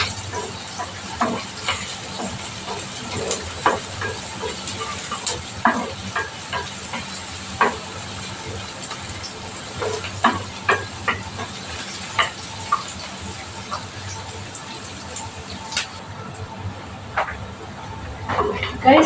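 Onion and tomato frying in a pan while being cooked for a fish menudo, with a steady close sizzle and hiss broken by frequent scraping stir clicks throughout.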